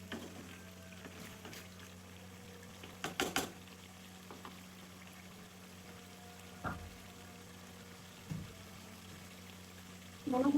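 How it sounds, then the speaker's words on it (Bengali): Beef with new potatoes frying in oil in a pan, a soft steady sizzle broken by a few brief stirring clatters, fairly quiet and close, with no talking. "এই যে খুব ভালো করে কষে আসছে, আর দেখেন খুব সুন্দর করে তেলগুলো আলাদা হয়ে গেছে।"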